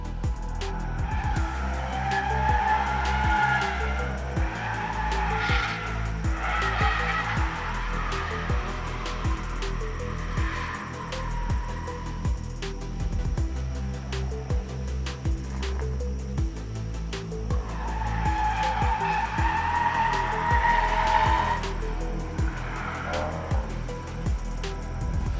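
Car drifting at an amateur drift event, a loud continuous engine roar with rising and falling revs and long tire squeals sliding across the track, sustained throughout without pause.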